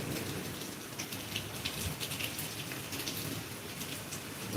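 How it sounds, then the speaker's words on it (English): Steady rain falls hard on surfaces, a dense constant hiss with occasional heavier patter and faint distant thunder beneath, no voices. "Can everybody hear me, or is the rain and thunder too annoying in the background?"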